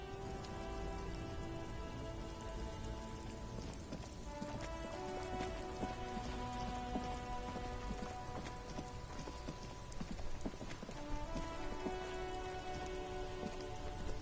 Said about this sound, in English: Stuck in the rain in a trap.